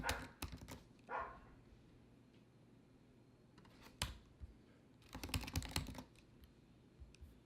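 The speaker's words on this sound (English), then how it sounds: "Let's type in Gadget Sin." Typing on a computer keyboard in a quiet room, with scattered clusters of sharp key clicks, brief isolated taps and a denser burst of rapid keystrokes near the end, with no talking.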